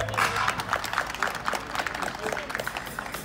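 A crowd at a tournament at Plaza Dos Hermanos in Kilgore claps and cheers in a steady, fairly loud wash of applause with voices mixed in throughout.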